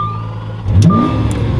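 A Lamborghini Aventador SV engine fires up with a short loud burst from the starter and a quick rev, then settles into a steady idle, heard close with no talking.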